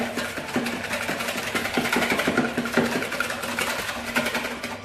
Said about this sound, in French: dans un saladier, je vais mettre mes 2 œufs. Je vais fouetter.